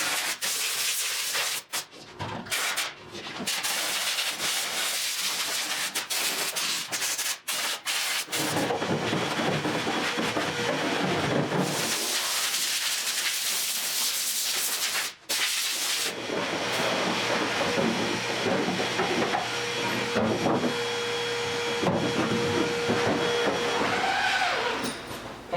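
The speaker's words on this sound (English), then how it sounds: "I'm blowing a little bit, then I'm vacuuming, then I'm blowing again, and then I'm vacuuming again" Compressed air blowing and a vacuum working dust out of the interior of a 1972 Triumph GT6 body in a paint booth, loud hissing bursts alternating with steady vacuum whine and brief pauses.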